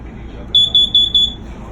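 A propane detector by a door gives four quick, high-pitched electronic beeps in an even rhythm over a low background hum.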